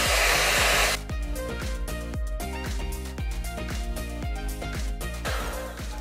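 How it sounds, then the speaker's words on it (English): A detachable blow-dry brush blasts hot air at hair roots with a steady, loud, close roar. About a second in, the tone shifts to a slightly lower whirr that continues with fine rhythmic flutter. "I'm just gonna lightly blast my roots because you can detach this, just to give a little extra kick."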